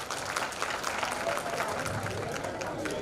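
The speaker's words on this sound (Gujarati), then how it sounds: "એવા નીતિનભાઈને ખૂબ તાળીઓથી આપણે વધાવીશું." An audience at a community felicitation event applauds, a dense, steady clapping that stays loud and even throughout.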